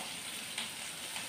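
Cumin and a heap of onion frying in oil in a kadhai, giving a steady, close sizzle with a soft crackle throughout and a couple of brief louder pops.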